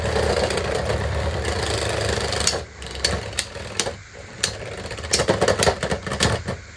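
Beyblade X spinning tops whir loudly in a stadium with a continuous buzzing drone, then break into a series of sharp, clattering hits and knocks as they clash.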